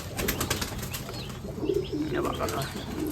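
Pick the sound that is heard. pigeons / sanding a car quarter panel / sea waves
pigeons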